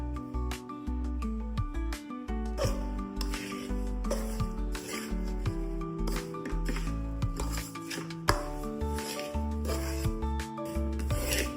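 Close, continuous rubbing and squishing as ragi flour dough with coconut and hot water is worked and pressed by hand, with soft rhythmic scrapes and no voices.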